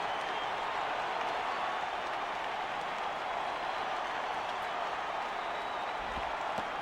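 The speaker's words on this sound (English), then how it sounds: "As the crowd boos the Twins pitcher, they come back to life to cheer on the hitter." A stadium crowd at a baseball game in MLB 11: The Show sends up a dense, steady roar of cheering and clapping that stays loud throughout.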